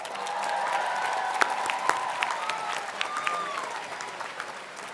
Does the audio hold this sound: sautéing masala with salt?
no